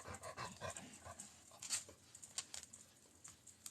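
A dog close by pants in quick bursts with a few soft whimpers mixed in, a steady low breathing rhythm throughout, on a farm with cows.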